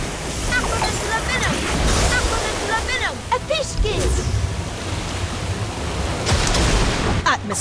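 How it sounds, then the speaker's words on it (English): Water orb spell in Harry Potter Magic Awakened, a loud rushing, surf-like wash of water with swirling magical chimes and whooshes layered over it, filling the whole span. "Orb of water."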